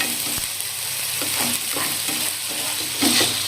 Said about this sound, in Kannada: ಹೈ ಫ್ಲೇಮ್ ಒಳಗೆ ಫ್ರೈ ಮಾಡ್ಕೊಳ್ಳೋಣ್ರಿ